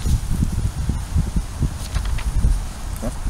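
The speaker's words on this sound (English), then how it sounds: "The wind's blowing" Wind blowing outdoors near a footbridge, a steady low rumble buffeting close to the microphone with faint rustling throughout.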